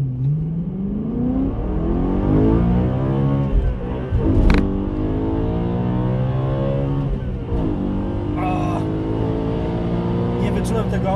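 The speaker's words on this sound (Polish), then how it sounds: "Cały czas go do odciny chciałem łapać, żeby przy odcinie dopiero zmieniać bieg." A BMW M3 engine revs hard through the gears, repeatedly climbing to the rev limiter before each shift, loud and close from inside the car, with someone talking over it.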